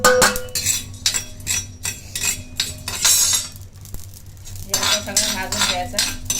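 Whole spices such as cinnamon, black pepper and cloves dry-roasting on a pan over low heat for Malvani mutton, with busy metallic scraping and clinking of a spatula in irregular bursts close by.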